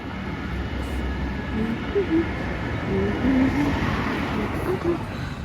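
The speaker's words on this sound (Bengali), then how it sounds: "পরে মেট্রো নিয়ে যাচ্ছি" A Paris metro train rumbles steadily with a continuous low roar and faint clatter, heard from on board or close by, while brief voice-like fragments rise over the noise.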